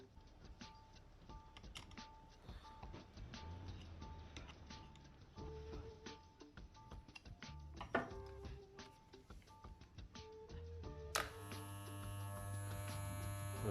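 A small Wahl electric hair trimmer buzzes steadily with clicks and taps over it, then its hum turns fuller and louder near the end after the top is reattached.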